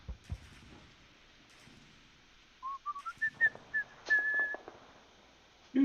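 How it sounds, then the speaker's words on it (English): A person whistles close into a microphone in short rising notes, then a sustained higher tone, with some clicks and bumps from a tabletop game setting around it. "whistling in the microphone"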